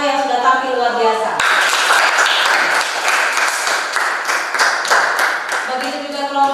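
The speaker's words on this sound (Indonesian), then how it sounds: "Tepuk tangan kelompok 1 yang kelompok 2 yang sudah tampil luar biasa" A classroom of students applauds two presenting groups during a teaching practice session, steady broadband clapping from many hands filling the room after a brief spoken lead-in, with talk resuming faintly near the end.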